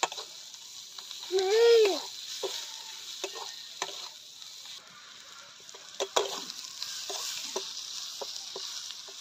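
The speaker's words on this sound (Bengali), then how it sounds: "সব মশলাগুলো ভালো করে ভাজা হয়ে গেছে।" Ground spices such as turmeric and cumin powder frying in a pan, with soft sizzling and repeated scraping stir strokes and light clinks. A short squeak rises near the start.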